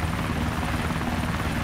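Steady, loud rotor-and-engine drone of a V-22 Osprey tiltrotor in Arma 2, flying in full aeroplane mode, a dense continuous whir with no voices over it.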